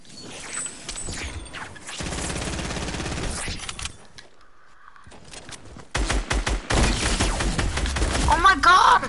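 Rapid bursts of game gunfire crackle loudly through much of the stretch, with a brief quiet gap midway and excited voices talking over the shooting.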